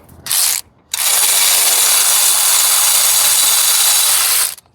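A ratchet wrench loosens a 13 mm bolt on the belt tensioner of a Ford Ranger engine. A short burst of ratcheting is followed by a loud, continuous rapid clicking rasp lasting several seconds, close up.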